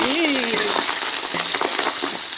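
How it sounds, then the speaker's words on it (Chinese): Fatty Sichuan cured pork hisses and crackles loudly in a small amount of hot oil in a wok, a steady dense sizzle with stirring scrapes, while a voice briefly calls out at the start. "先把肥肉爆一下哈。"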